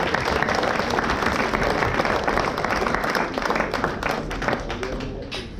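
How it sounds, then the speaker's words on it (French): Audience applauding a pole dancer at a live show, loud, dense crowd clapping sustained throughout and tapering slightly toward the end. "On peut l'applaudir encore bien fort"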